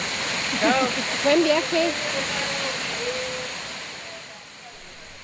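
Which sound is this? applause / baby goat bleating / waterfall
waterfall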